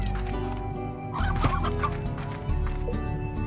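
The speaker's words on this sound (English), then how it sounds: "There's two hen hens right here." Stony hens in the video game Slime Rancher cluck in a loud, close burst of repeated fowl calls over a steady game soundtrack.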